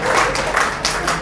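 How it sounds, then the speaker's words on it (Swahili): Church congregation at a dinner gathering breaking into applause, a short burst of loud clapping from many people, near and dense, lasting about a second. "Yani makofi kwa Bwana"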